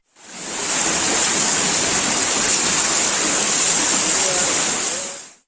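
Tohma stream and natural waterfalls flowing through a rocky, green canyon valley, a steady, loud broadband rush of water that fades in and holds evenly throughout, with no voices.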